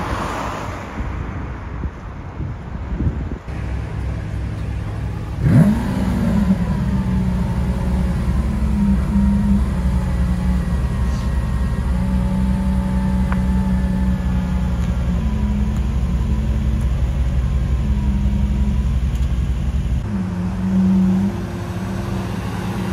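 A modern reinterpretation of the Lamborghini Countach drives by with a loud, sustained engine roar that rises in pitch as it revs and accelerates, mixed with heavy wind rumble, then drops briefly before building again.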